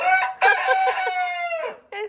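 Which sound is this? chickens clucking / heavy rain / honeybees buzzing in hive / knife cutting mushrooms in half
chickens clucking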